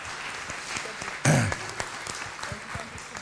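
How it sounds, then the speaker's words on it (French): Brief, light applause from a small group, a short burst of clapping over room murmur. "Un petit peu d'applaudissements"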